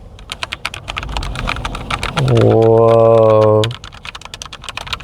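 Rapid clacking keystrokes on a mechanical computer keyboard patter close up, interrupted midway by a drawn-out vocal exclamation from a man before the typing resumes.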